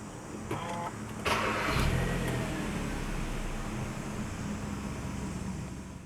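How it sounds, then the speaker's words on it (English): A 2014 Hyundai Veloster 1.6 starts by push button, with a brief whir and click followed by the engine catching and settling into a steady, quiet idle inside the cabin. "press the start button located on the dashboard"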